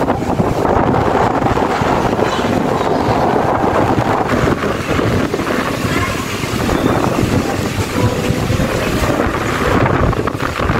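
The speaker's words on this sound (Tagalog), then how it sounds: "So windy." Strong wind buffets the deck of a boat at sea, a loud continuous roar of gusts and microphone rumble over the sound of water, with no clear talk.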